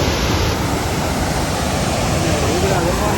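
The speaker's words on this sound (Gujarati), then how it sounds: "તમારા માટે ખાસ કરીને અમે આ જમજીર ધોધ બતાવવા માટે આવ્યા છીએ" Rushing water from Jamjir waterfall in Gujarat: a dense, steady roar that stays loud and even from start to finish, with no pause or letup.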